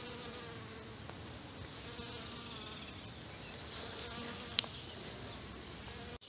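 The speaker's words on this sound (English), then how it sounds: "There are many different types of bees and other insects that help to pollinate out in your garden." Steady buzzing of bees and other pollinating insects close by in a garden, continuous throughout with a brief louder pass midway and a sharp tick near the end.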